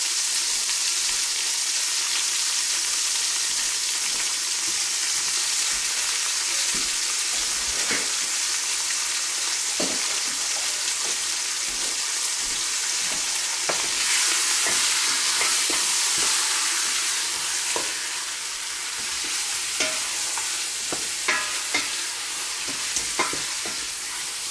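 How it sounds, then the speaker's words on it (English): Meat and onions sizzle steadily in a pan for Moroccan couscous, with a constant close frying hiss and occasional soft scrapes and taps of stirring throughout. "you keep stirring the onion and the meat until the colors start changing a little bit at the surface of the meat"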